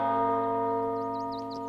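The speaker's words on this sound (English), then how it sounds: "Probably not good ringing bells." A bell rung in the video game Baldur's Gate 3 sounds one sustained peal, its rich overtones ringing steadily and slowly fading, with faint higher chimes flickering near the end.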